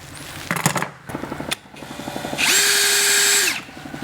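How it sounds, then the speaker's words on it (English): Power drill boring dowel holes, 18 mm deep, into a part on a Ford Falcon, starting with short bursts and then a steady sustained whine that cuts off. "I'm only going to drill 3 out of 6"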